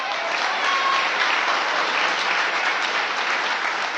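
Steady, dense applause from a school audience fills the whole stretch at an even level, a continuous wash of many hands clapping with no voices rising above it.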